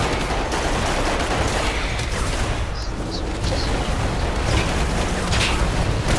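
Dense, continuous gunfire and explosions fill the scene throughout in the dinosaur-and-human combat game Primal Carnage, loud and sustained without a pause.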